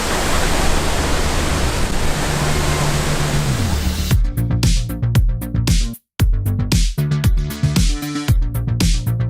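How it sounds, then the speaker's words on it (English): A large waterfall in Ecuador gives a loud, steady roaring rush for about four seconds, then music takes over for the rest. "It's not a small waterfall, I'll tell you that."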